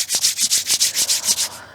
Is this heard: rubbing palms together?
yes